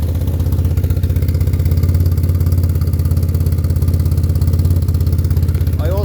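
Motorcycle engine idling evenly and steadily during carburettor balancing, a close, continuous low throb with regular pulses and no revving.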